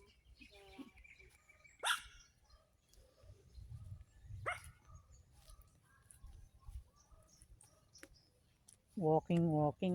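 Dogs out on a walk through grassy ground give a few scattered barks and yips, with a louder burst of barking near the end, while people chat nearby over low outdoor rumble.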